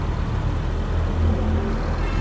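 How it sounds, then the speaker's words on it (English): Porsche 911 engine running steadily at close range, a continuous low rumble with a slight swell midway, over busy crowd and arena background noise. "It's a Porsche 911, Dan."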